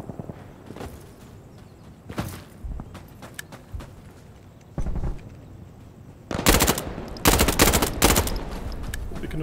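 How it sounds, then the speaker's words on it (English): An MP5 submachine gun fires in bursts in the video game Insurgency Sandstorm, scattered shots early and then loud, rapid bursts close by toward the end, with no talking. "There goes that MP5 again."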